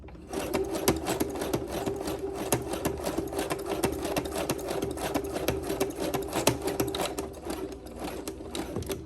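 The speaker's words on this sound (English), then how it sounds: "So I'm gonna sew backwards. See how wide it's going?" Sewing machine running a zigzag stitch in reverse over elastic for a bikini, a fast steady rhythmic clatter of needle strokes over a motor hum, close and continuous for several seconds without speech.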